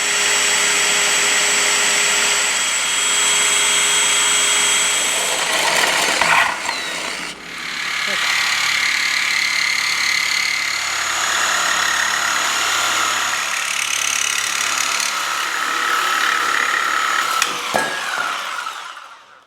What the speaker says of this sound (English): drill these out, and step it up to 1/2 inch.